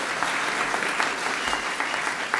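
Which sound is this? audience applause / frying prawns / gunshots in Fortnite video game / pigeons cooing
audience applause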